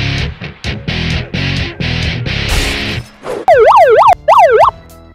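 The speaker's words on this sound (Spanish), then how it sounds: "vamos a salir a molestar a las personas con esta sirena." A loud street-prank siren blares up close, first in short repeated bursts and then in rapid rising and falling wails, with no talk over it.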